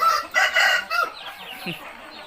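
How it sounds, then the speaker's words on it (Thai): A rooster crows loudly and close in the morning, one long drawn-out call, followed by a few softer clucks and background noise. "มาฟังเสียงไก่กัน"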